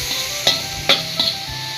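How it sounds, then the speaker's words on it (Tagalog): Monggo with meat and chicharon bulaklak stirred in a hot pan, a steady sizzle broken by three or four sharp scraping strokes of a utensil against the metal. "Halo-haloin lang natin yan mga katsan ng ganyan."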